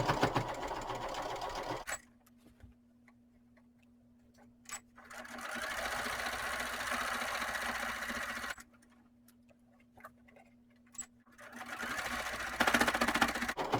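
A sewing machine stitching around the top edge of a fabric tote bag, running in two steady bursts separated by a pause, with a few soft clicks between runs.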